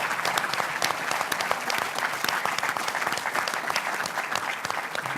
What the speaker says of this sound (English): we should give all of those businesses a round of applause.